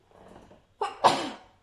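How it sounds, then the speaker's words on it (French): A single close sneeze, a short inhaled lead-in and then a sharp loud burst that trails off, heard alone in a quiet room. "j'ai envie d'éternuer"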